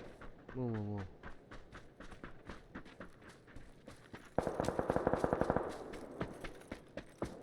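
Automatic gunfire in a video game: a rapid, evenly spaced burst of shots rings out for about a second near the middle, loud over a busy background of game effects and talking players.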